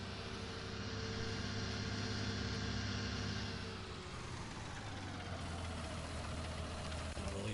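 A tractor engine idles in a farming video game, a steady droning hum with a low knocking rhythm that shifts tone partway through, with no talking.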